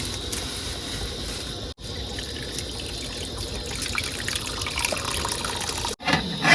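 Running tap water as meat is washed in a home kitchen, a steady splashing stream with small drips, briefly cut off twice by short gaps.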